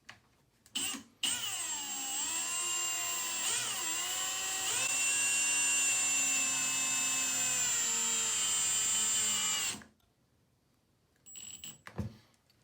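A drill drives a screw into a wall stud while mounting a towel rack, giving a loud whirring motor whine that bogs and shifts pitch as the screw bites, running about eight seconds before stopping, with short handling clicks around it.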